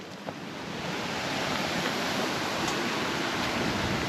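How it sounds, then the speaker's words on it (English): Water boiling hard in a pot outdoors at a bush camp, a steady broadband roiling hiss and bubbling that holds loud and constant throughout with no voices. "Our water's definitely boiling."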